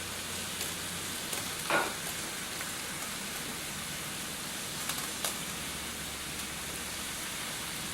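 A large buck's deer heart fries in a pan with a low, steady sizzle and a few faint pops and clinks, with no talking.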